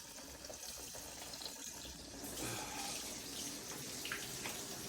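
Tap water runs steadily into a kitchen sink as hands are rinsed under it, a close continuous splash that grows fuller partway through, with no talking.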